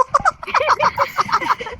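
A chicken or rooster clucks in a quick, repeated run of calls, loud and close, at a lively gathering.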